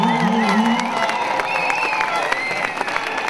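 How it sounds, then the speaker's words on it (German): Huge anti-nuclear street demonstration in Berlin with a crowd applauding, cheering and whooping, a loud dense roar of clapping and voices mixed with shouts over a sustained tone. "gebt euch selber einen lauten Applaus"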